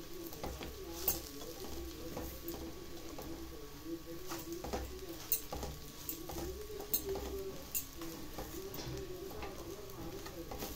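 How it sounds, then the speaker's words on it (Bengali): Semolina being stirred and fried with cooked vegetables in a hot pan, a steady soft sizzle with repeated scraping strokes of a spoon, close and moderately loud, with no talking. "সবজির সাথে সুজিটাকে আমি 1-2 মিনিট আরও নাড়াচাড়া করে ভেজে নিয়েছি।"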